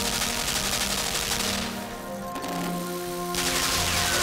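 A gun turret in the video game Limbo fires in loud, rapid, continuous bursts, briefly easing off in the middle before the dense shooting returns, with no talk over it.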